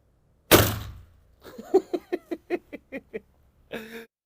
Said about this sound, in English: We close the bolt, the firing pin is cocked as it closes, and we fire.